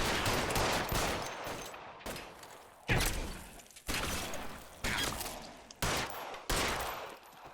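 Gunshots ring out in the detective video game LA Noire, a series of about seven sharp loud reports at roughly one-second intervals over a dense, noisy game soundscape.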